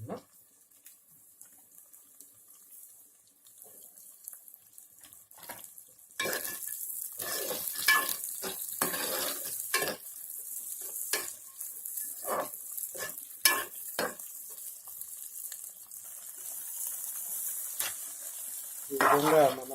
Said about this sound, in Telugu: ఈ విధంగా మనం దొండకాయలు వేసుకుని బాగా కలుపుకోవాలి